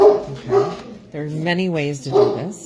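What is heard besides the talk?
dog barking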